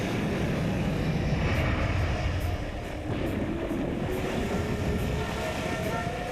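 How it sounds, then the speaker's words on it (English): A jet airliner takes off and climbs into the sky above Paris, a loud, steady engine roar filling the scene without pause. "Flight 358 powers into the sky above Paris"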